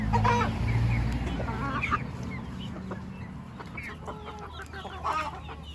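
Several chickens, including Swedish white breed hens and a rooster, cluck and murmur nearby in short bursts while eating purslane, with a low rumble of background noise underneath.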